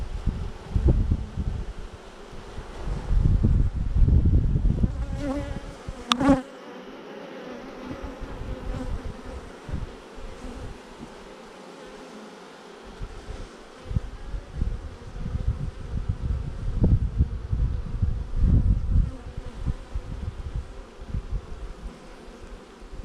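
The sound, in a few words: honey bees buzzing while being installed in new hive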